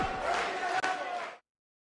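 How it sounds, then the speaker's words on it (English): A boisterous wrestling crowd in Philadelphia roars in a dense, loud wall of yelling and cheering that cuts off abruptly after about a second and a half. "this Philadelphia crowd is beyond boisterous tonight"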